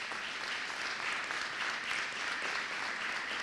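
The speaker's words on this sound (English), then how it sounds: "Can we give them a round of applause?" Applause from attendees at a school board meeting, a soft, even patter of clapping heard from a distance, continuous for a few seconds with no talk.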